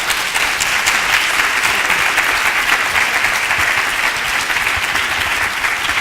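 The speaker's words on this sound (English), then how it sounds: "can you please give them all a massive round of applause?" Dense, sustained applause from a conference audience, loud and even throughout, with no pause or talk rising above it.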